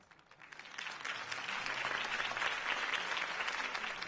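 A crowd bursts into sustained applause after a campaign speech, the clapping swelling within the first second and holding steady and loud to the end, with no talk over it.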